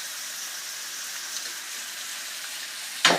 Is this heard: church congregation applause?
no